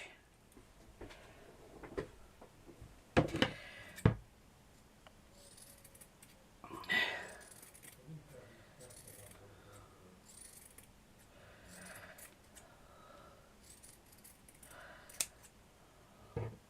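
Scissors cutting fabric for a flower craft, heard as a few close, crisp snips and rustles amid quiet handling noises and light talk.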